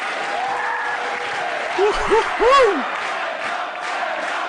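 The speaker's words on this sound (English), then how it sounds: "A deafening chant of Sendai off every wall here at the Star Works" A wrestling show crowd at the Star Works chants Sendai loudly amid steady applause, the rhythmic chant rising in a few swelling bursts over a dense, reverberant roar.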